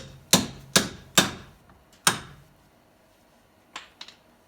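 Four hard metallic hammer blows ring out close by on the splined front wheel hub of a Dodge Neon, then a pause and a few lighter taps.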